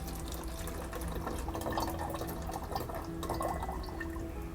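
Water pours into a 1-liter plastic milk bottle holding beaten curd, a steady close gurgling and trickling stream with small splashes that continues throughout, no talking.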